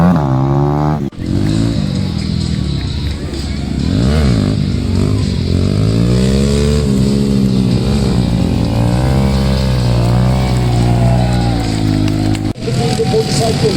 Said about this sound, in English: Wheelie is an event with a motorcycle momentary balanced on its rear wheel.